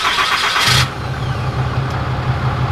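A 2020 Ram 2500 Laramie Night Edition heavy-duty diesel fires up by remote start with a brief loud cranking burst, then settles into a steady, deep, close-miked exhaust idle rumble.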